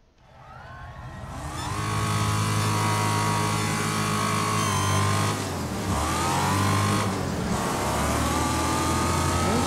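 Car engine in the Wreckfest off-road update, sounding like an old Toyota truck, revving up from idle into a loud sustained drone, with two brief dips as the gears shift before it climbs again.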